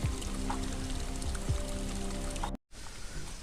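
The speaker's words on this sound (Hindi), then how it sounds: "यहाँ से भरेंगे हम गैलन पानी का।" Spring water runs into a gallon can beside a forest path in rural Uttarakhand as a continuous, fairly quiet trickling pour, broken by one brief silent gap shortly before the end.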